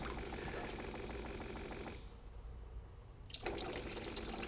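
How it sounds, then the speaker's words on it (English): Filtered water runs from the outlet of a home-built emergency water filter system, a continuous hiss-like flow that briefly drops away midway, then resumes with a sharp onset and stays steady to the end. "There's our clean filtered water No way. coming out the other end."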